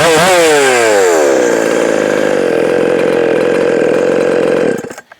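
A small engine revs up, then settles into a loud, steady buzzing run after its running issues were fixed and it was tuned, ending in a quick cut-off near the end.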